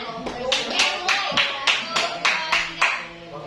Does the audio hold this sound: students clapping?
yes